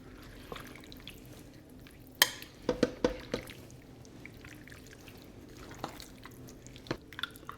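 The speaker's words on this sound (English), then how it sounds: "Just want to give it a good stir." Beef chili stirred in a slow cooker with bouillon mixture just added, soft wet sloshing and drips with a cluster of clinking spoon taps against the pot, fairly quiet and close.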